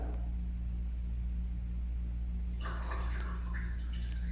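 A paper napkin dipped into a glass of water gives a soft wet splash and patter after a stretch of steady background hum, close and fairly quiet, with no talking.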